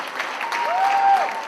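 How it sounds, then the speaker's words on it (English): Gala audience applause fills the room, a dense wash of clapping with a brief whistle rising over it in the middle. "One more round of applause for the impressive talent in this community."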